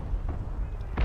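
Warship gun salvo in War Thunder Mobile, fired from a rank 2 ship: brief muffled booming bursts, the last one strongest, in a short game mix with no voices.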